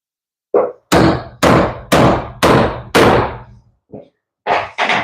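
A hammer drives nails into wood during bathroom framing work, with about nine loud, close, ringing strikes in a steady rhythm of roughly two per second, a couple of lighter taps among them, and no talking.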